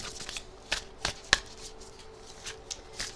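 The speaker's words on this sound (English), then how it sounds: "A riffle." Tarot cards from a Starseed deck being riffle shuffled, giving a few sharp, quiet bursts of flicking card edges spread over a few seconds, with a soft whir between them and no voices.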